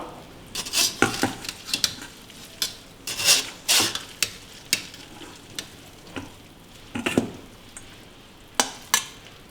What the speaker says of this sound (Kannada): ಈಗ ನಾವು ಕುದಿಸಿರೋಂತಹ ಶಾವಿಗೆನ ಒಂದು ಪಾತ್ರೆಗೆ ಹಾಕ್ಕೊಳ್ಳೋಣ.